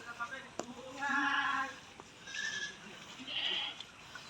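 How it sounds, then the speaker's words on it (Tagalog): A goat bleats three times in wavering, nasal calls spaced about a second apart, fairly close, over faint outdoor background noise. "sabi ng kambing"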